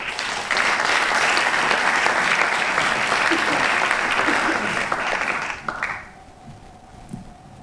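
Applause from an audience welcoming David Bowie onto the stage at a Garden Room talk on mental health in the workplace, steady dense clapping for about six seconds before it fades out.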